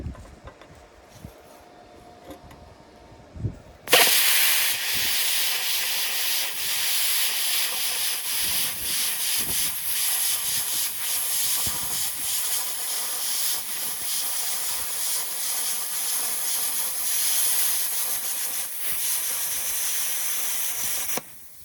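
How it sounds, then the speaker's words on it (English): Small plasma cutter slicing through 1/4-inch steel plate, a loud, steady roaring hiss that bursts in after a few quiet seconds and holds unbroken to the end. "this is going to be a pretty big cut for this little machine. 1/4-inch plate steel."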